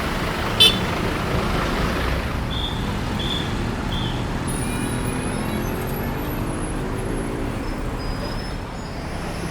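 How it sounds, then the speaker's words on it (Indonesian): Steady outdoor traffic rumble at Pondok Pinang bus terminal in Jakarta around 5 pm, with engines idling and passing buses, a brief sharp click and a few short horn-like beeps in the middle. "Seperti inilah Terminal Pondok Pinang sore hari, jam 5 sore."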